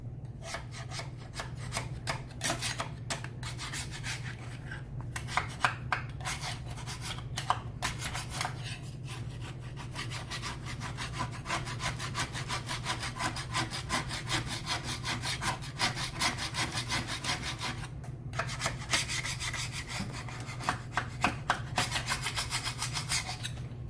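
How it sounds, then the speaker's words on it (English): A scraper rasps across the underside of a John Deere Ztrak 737 mower deck in rapid, rhythmic back-and-forth strokes, a close, continuous gritty scratching over a low steady hum, with no talking. "I'm going to scrape the bottom of the deck with a scraper"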